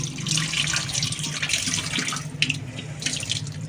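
Tap water runs steadily into a sink while dishes are rinsed at home, a continuous close splashing hiss with faint clinks underneath and no voices.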